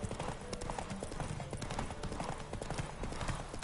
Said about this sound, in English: My horse is going to run out of stamina in a second.